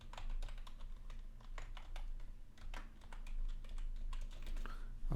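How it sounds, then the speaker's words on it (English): Typing an email address on a computer keyboard, a quick run of soft clicking keystrokes, close and fairly quiet, with no talk. "So I'm going to type here my email account."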